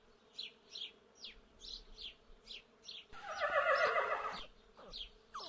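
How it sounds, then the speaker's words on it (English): A horse gives a single neigh lasting just over a second, preceded and followed by a series of faint, evenly spaced high chirps. "This is a horse."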